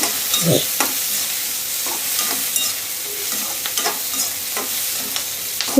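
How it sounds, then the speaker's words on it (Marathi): Tomato, green chili and onion sautéing in a pan for kharda, with a soft continuous sizzle broken by scraping stirs of a spatula at a steady, unhurried pace. "टमॅटो, मिरची आणि कांद्यासोबत छान परतून घ्यायचा"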